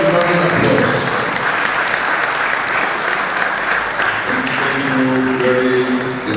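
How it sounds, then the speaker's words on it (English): A law week audience of the Nigerian Bar Association Benin branch gives a standing ovation, with loud, sustained clapping that fills the room while faint tones from music or a voice rise near the end. "It is a standing applause,"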